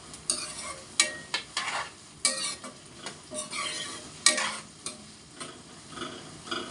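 Vegetables frying in a pan alongside tomato for a curry, with soft sizzling beneath repeated scraping stirs and spoon clinks against the pan, close and fairly quiet.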